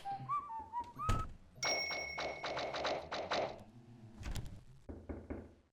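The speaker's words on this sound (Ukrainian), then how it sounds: "Хтось стукає." A door is rapped in the video game Baldi's Basics Plus with a quick burst of hollow knocks. A second, shorter series follows, mixed with game chimes and a whistle-like tone.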